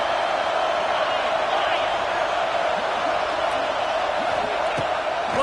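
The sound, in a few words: stadium crowd cheering at LSU football game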